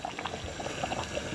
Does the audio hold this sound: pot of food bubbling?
yes